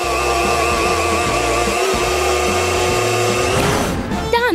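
A countertop blender whirs at full power, pureeing strawberries into a smoothie, a steady loud motor whine that shifts pitch as the load changes, then cuts off near the end.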